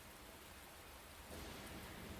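Steady thunderstorm rain from the video game AI: The Somnium Files, a dense hiss of rainfall that swells slightly louder midway, faint and continuous with no voices.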